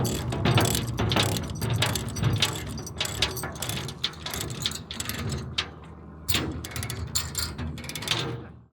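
A ratchet strap is cranked tight to secure a log arch, giving repeated sharp clicking ratchet strokes in bursts with brief pauses, close and fairly loud.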